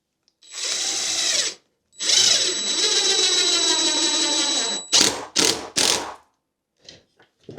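A power drill drives screws into wood while building a komatik sled, with two long whirring runs followed by several short bursts, close and loud, then quiet taps.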